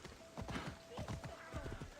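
A horse's hooves clip-clop in the video game Assassin's Creed Odyssey, a quick, uneven thudding rhythm with a faint steady tone behind it, fairly quiet.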